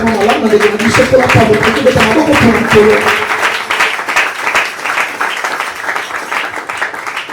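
A church congregation applauds to acclaim the Lord at a Sunday worship service, steady loud clapping from many hands that thins out toward the end, with voices mixed in beneath.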